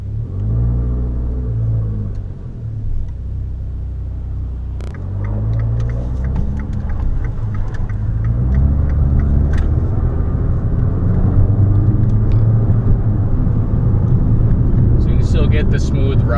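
Cabin noise inside a 2015 Fiat 500 Abarth with an automatic transmission on the move: a steady low engine and road rumble that builds gradually, with someone talking over it throughout.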